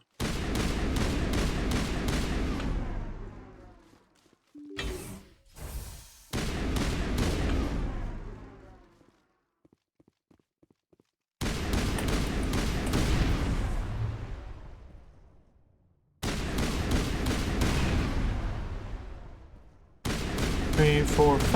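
Heavy weapon fire in the Mass Effect video game comes in long loud sustained bursts separated by abrupt silences, with a few short quieter pops in the gaps.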